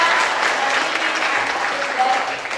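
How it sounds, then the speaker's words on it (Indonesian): A room full of people applauds at the close of a dance discussion forum, continuous crowd clapping that holds steady and loud throughout. "tepuk tangan sekali lagi untuk mereka"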